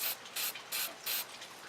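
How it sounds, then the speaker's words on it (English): A spray paint can is given a short test spray outdoors in the rain before painting an Optimus Prime model kit: four brief, evenly spaced hissing bursts with soft rain-like background noise between them, no voices. "I take my spray can and"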